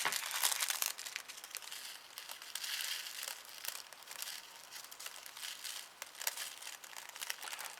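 A plastic packet of tiny micro stars for a shaker card is worked open, a continuous faint crinkling and rustling of thin plastic close by, with brief sharper crackles.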